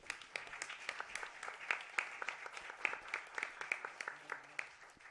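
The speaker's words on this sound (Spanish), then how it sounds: "También les pido un fuerte aplauso para él." Scattered audience clapping at a formal constitutional panel event, individual claps clearly separated in an uneven patter, fairly quiet and sparse, with no speech over it.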